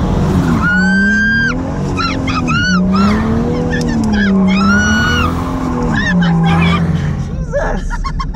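A car revving hard while drifting: loud, close engine howls rise and fall in pitch in repeated sweeps, with tire squeal mixed in throughout.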